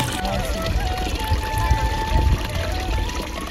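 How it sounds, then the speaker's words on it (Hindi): Natural spring water stream flowing and pouring steadily in a hillside setting near Thalisain, a continuous close splash with low rumble throughout, with no clear speech over it. "ये देखो नेचुरल नेचुरल पानी का स्रोत, यहाँ पे पानी का धारा"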